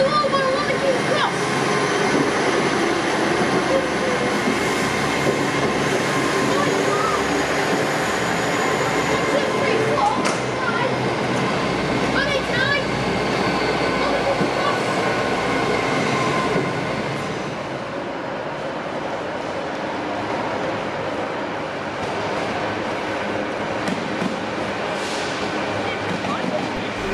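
Steam locomotive 34067 Tangmere rolls past at St Bees with its train, a sustained broad rumble with wheel and rail noise that swells and slowly fades, while voices talk over it throughout.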